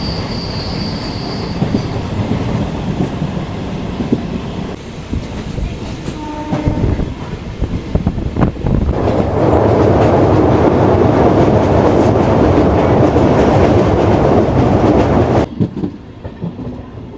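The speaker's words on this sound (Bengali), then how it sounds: "আমাদের ট্রেন মোটামুটি আধ ঘন্টা লেটে এই লাভপুর রেলওয়ে স্টেশনে পৌঁছালো" A late train pulls into Labhpur railway station in Birbhum: rumbling and clattering wheels swell into a loud, sustained roar with squealing, then the noise cuts off sharply near the end.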